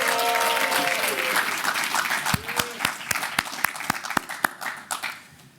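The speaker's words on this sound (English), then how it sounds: "Let's give them a rousing applause" Graduation ceremony audience at the CVI Leadership Academy gives a loud, dense round of applause that thins toward the end into sharp, separate claps, with a voice briefly heard early on.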